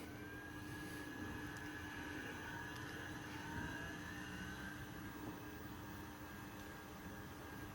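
A lab centrifuge spins a bacterial cell pellet at 4,000 RPM, giving a faint, continuous whirring hum with a steady tonal whine and no other sounds.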